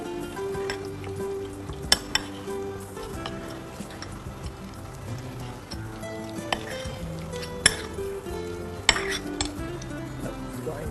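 Mince mixture with cinnamon powder and cream being stirred in a pan, a steady sizzle with scraping and a few sharp clinks of a utensil against the cookware, no voices.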